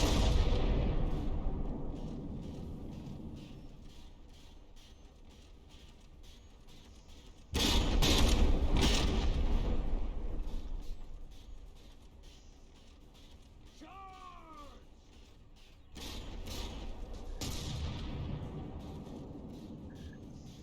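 Tank gunfire in the video game From The Depths, with shells striking the ground as heavy booming bursts and rumbling impacts that recur across the stretch, while someone talks over them.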